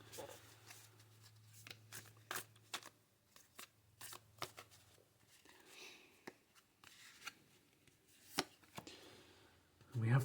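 Tarot cards are shuffled in quick riffling bursts with soft slaps between them, fairly quiet and close, separated by short pauses.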